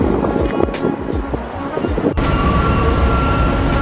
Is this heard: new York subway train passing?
yes